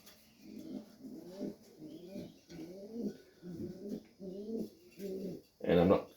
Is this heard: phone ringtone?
no